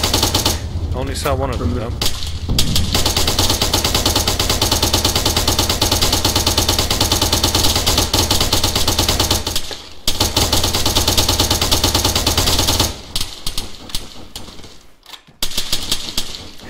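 Sustained rapid airsoft gunfire at a folk ARPS skirmish, near and loud, bursting almost continuously with a few brief pauses while someone speaks briefly over it.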